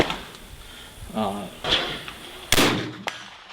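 Reproduction 1790s-era flintlock muzzleloader rifle fired outdoors while hunting, a single sharp loud crack late in the clip, preceded by quieter rustling and someone speaking.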